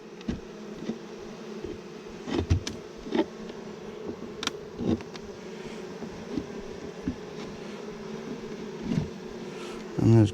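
Honey bees buzzing around an open hive as beekeepers in Texas combine hives by the newspaper method, a steady close drone with individual bees zipping past, and brief clicks and knocks from hive parts.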